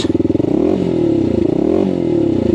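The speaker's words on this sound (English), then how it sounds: "does sound like your standard off-road bike" A WK Scrambler 125cc off-road motorcycle engine idling and revving close by, steady harmonic drone rising and falling in pitch twice, with a rough clattery tone.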